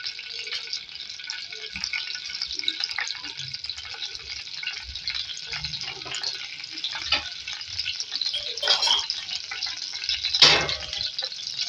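Mustard seeds and cumin frying in hot oil, a steady bright sizzle with crackling pops that builds toward the end, close and continuous, with no talk over it.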